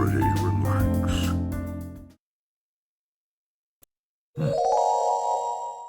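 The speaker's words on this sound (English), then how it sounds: "A little chime that rings out whenever someone comes to visit. The doorbell." A doorbell chime rings in the video game How To Date A Magical Girl!, a clear, bright tone that rises alone out of silence after a burst of music cuts off.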